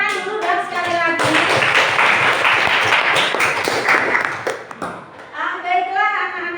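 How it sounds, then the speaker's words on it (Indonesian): Students applaud in a classroom during a civics lesson, a dense burst of clapping lasting several seconds between stretches of a teacher's voice at the start and end. "Tepuk tangan dulu dan sekali lagi."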